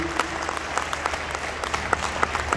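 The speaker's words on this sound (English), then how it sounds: "Please, let's applaud the Fellow, let's applaud him." Applause from an audience honouring a recipient of a medical fellowship award in Ghana, a steady patter of claps at moderate distance, continuous with no voices over it.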